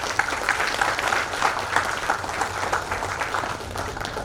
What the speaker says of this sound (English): Please give a big round of applause for this.